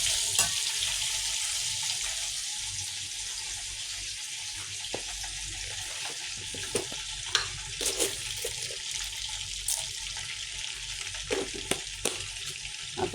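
Cinnamon, cloves and cardamom sizzle in hot ghee and butter in a pan, a steady close frying hiss with occasional sharp crackles and pops, with no talking.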